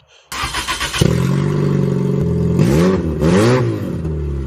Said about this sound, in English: if you notice sound that is not usual, like this one from the engine